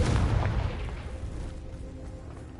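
Confringo fire spell blasting in a Harry Potter video game, a loud booming explosion at the start that rolls off into a fading rumble over the next two seconds.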